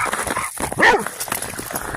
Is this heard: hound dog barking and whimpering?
yes